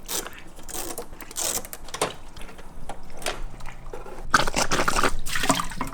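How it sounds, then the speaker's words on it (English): Aquarium tank water drains during a water change, with steady trickling and dripping plus irregular splashy gurgles, getting louder toward the end. "while the tank is slowly draining down"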